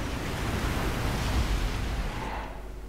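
Steady broadband wash of Mediterranean sea waves in Resident Evil: Revelations, loud and continuous, easing slightly near the end.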